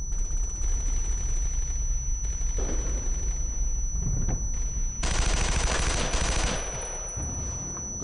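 Gunfire in the World War II shooter Brothers in Arms, with sustained rapid machine-gun bursts and overlapping rifle shots, loud and close, intensifying into a heavy fusillade midway before easing slightly, with no clear talk over it.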